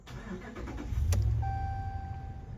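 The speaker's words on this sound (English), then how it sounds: "Let me start my truck here." A vehicle engine cranks briefly and catches, settling into a steady low idle with a faint whine; close by, no talking.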